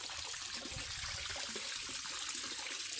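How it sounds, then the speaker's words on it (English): Water trickles and splashes steadily into a garden fish pond, a constant soft wash with low bubbling close by and no voices. "Enjoy the sound of the water and that."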